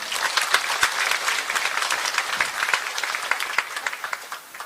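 A crowd applauds steadily throughout at a regional briefing in the Taebaek Culture and Arts Center, South Korea, loud dense clapping with individual sharp claps standing out, tapering slightly at the very end.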